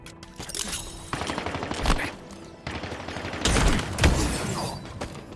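Rapid weapon fire crackles through a Halo Infinite multiplayer match, with repeated bursts and heavier booming shots swelling and fading over several seconds.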